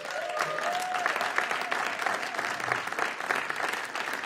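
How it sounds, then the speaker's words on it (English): A summit panel audience applauds steadily for a few seconds, an even wash of clapping with no speech. "So let's give him a round of applause."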